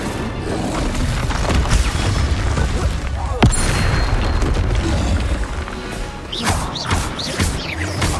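Casting of the Incendio fire spell in the wizarding game Hogwarts Legacy, heard as a dense roaring whoosh with heavy booming impacts and crashes, loud and continuous, with a sharp blast near the middle.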